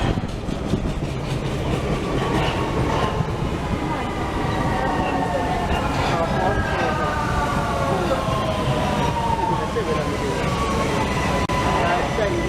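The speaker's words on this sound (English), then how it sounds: "Here's a train, but it's in the other direction." A Vienna metro train passes through an above-ground station heading the other way: a loud rumble with rising electric motor whines sweeping upward over several seconds, and a voice briefly underneath.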